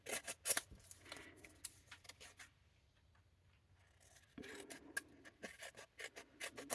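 Scissors snipping through printed cardstock in a series of short, close cuts, with a pause in the middle before the crisp cutting resumes.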